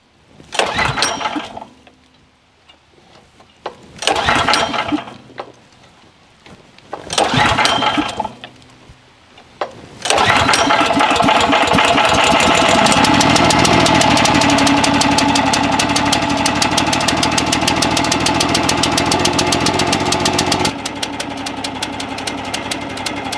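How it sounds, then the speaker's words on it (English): Eastonmade Axis log splitter engine: three short cranking bursts with pauses between, then the small engine catches and runs loud and steady at close range, dropping slightly in level near the end. "surely an engine sitting there breathing exhaust has got to run poor over time"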